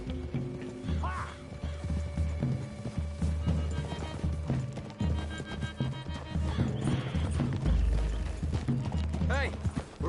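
Horses ridden through woodland in Red Dead Redemption 2, hooves clip-clopping steadily under a game score, with a whinny or two and characters talking over the ride.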